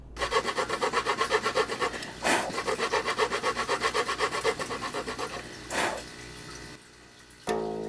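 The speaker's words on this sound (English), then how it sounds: "I then recut the slots with appropriate sized nut slotting files" Nut slotting files recutting the string slots in a guitar nut, making a steady rhythmic back-and-forth rasping, close and loud, in quick strokes with brief pauses between passes.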